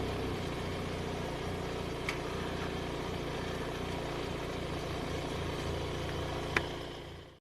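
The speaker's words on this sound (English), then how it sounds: "Warming up the bike." A Triumph Street Triple 675 motorcycle fitted with a Yoshimura exhaust idles steadily at close range, a low continuous engine burble holding even throughout with a couple of faint clicks and ticks.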